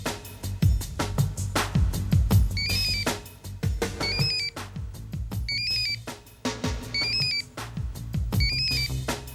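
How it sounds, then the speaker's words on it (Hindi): A mobile phone rings with a repeating electronic tune, five short melodic bursts at even intervals, sounding under thumping background music and scattered knocks in a dramatic indoor scene. "सब बेल बज रही है।"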